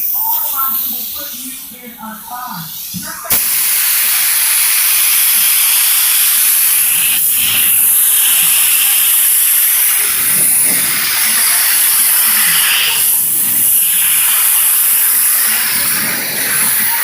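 A steady, loud hissing spray runs continuously for most of the clip, starting abruptly after a few seconds of quieter sound.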